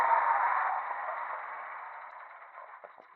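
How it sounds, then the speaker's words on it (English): A softwash pump throws water from a spray setup behind the pressure-washing rig, a steady broad hiss that stays loud throughout and eases off slightly toward the end, with no talk over it. "my Softwash pump is still back there throwing water around"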